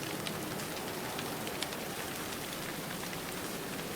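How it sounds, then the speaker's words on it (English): Steady rain falling outside in the video game Everlight, an even, hissing wash of drops with occasional sharper patters, soft and continuous with no voices. "Actually, I'm just here because it's raining outside."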